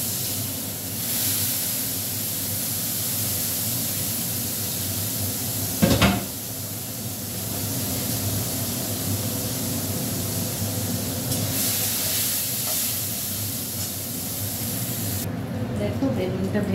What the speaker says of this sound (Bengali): নিম বেগুনটা ভেজে নিচ্ছি।